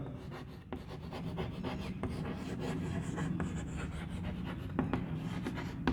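Chalk scratching out a definition on a classroom board, soft irregular scraping and tapping strokes, close and faint, without pause.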